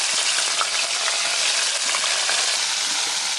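Breaded Rocky Mountain oysters frying in a deep fryer, a steady, close, continuous hiss and crackle of bubbling oil with scattered small pops throughout, no voices.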